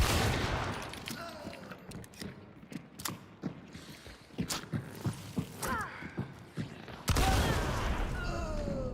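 Romero 77 single-shot shotgun fire in the Hunt: Showdown video game: several loud, sharp blasts spaced irregularly, with mechanical clanks and creaks between them and a heavier burst near the end.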